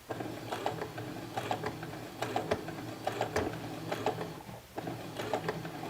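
A sewing machine fitted with a stitch-in-the-ditch presser foot runs slowly, giving a steady mechanical whir with a light, regular clicking pulse and no talking.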